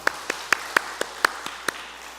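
A church congregation at a Wednesday worship service claps in a steady, even rhythm, about eight distinct claps spaced roughly a quarter second apart, faint and slightly distant against a quiet room.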